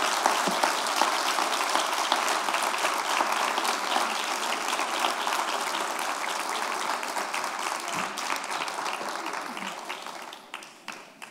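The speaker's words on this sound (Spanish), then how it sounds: "Dale un aplauso al Señor en esta mañana." A church congregation applauds during a morning service, a dense sustained wash of clapping that holds steady for about ten seconds before thinning out and fading at the end.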